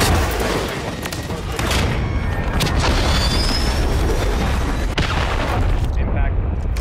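Artillery fire explosions in a video game create deep, heavy booms and rumbling blasts over a continuous battle din, with a voice speaking partway through.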